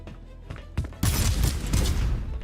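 Gunfire from a heavy hand-cannon-style weapon in the shooter EthrA, with a couple of sharp shots early on and then a dense, loud burst of firing and impacts.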